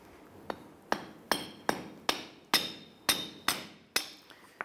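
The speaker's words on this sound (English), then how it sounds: "I'm just gonna use a little pry bar here. I'm just gonna put it between the stub shaft and the axle." A small pry bar is tapped to separate the stub shaft from the front inner CV axle of a 2011-2018 Ram 1500, giving about nine sharp metallic hammer-like knocks at a steady pace, close and clear with ringing decay.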